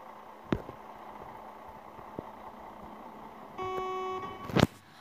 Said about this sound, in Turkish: Kornamız var mı?